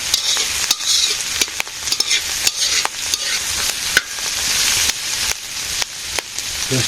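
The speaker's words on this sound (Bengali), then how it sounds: "একটু ভাজি ভাজি হোক কচুর শাক রান্না করবো মাছের ডিম দিয়ে" Taro leaves (kochu shak) frying in a pan, a steady loud sizzle broken by frequent scraping clicks as the leaves are stirred, close up with no talking.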